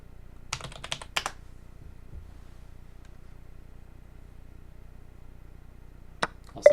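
Computer keyboard typing during an online four-player chess game, a short burst of quiet keystrokes near the start and a couple more clicks at the end, with near silence between.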